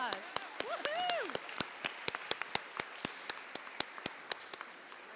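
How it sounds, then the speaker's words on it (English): A small group of visitors on a DAR trip gives scattered, sparse applause, with individual claps spaced apart and fairly close, while a cheerful whoop rings out near the start. "Give yourselves a round of applause."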